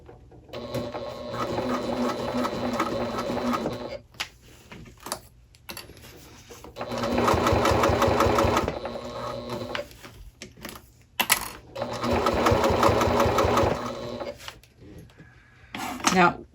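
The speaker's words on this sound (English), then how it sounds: "So you're going to want to sew very slowly here." A sewing machine stitches a bag gusset to its panel in three slow bursts of rhythmic mechanical whirring and clatter, separated by pauses with small handling clicks, close and fairly loud.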